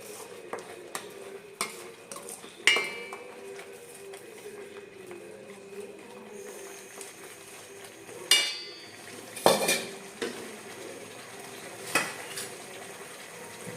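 A spoon works pav bhaji masala, salt and vegetables together in a metal pot, with soft scraping and a handful of sharp clinks against the rim spread irregularly over a quiet stretch.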